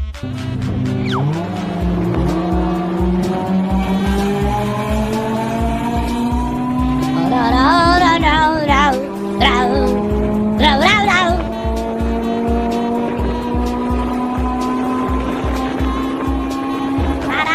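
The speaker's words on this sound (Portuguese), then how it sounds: "É um chevinho bem montado faz VTEC cortar giro e comer poeira no probleminha." A modified Chevrolet Chevette engine revs hard and steady, bouncing against the rev limiter in rapid regular cuts, loud and close, with a brief burst of voices and squeals mid-run.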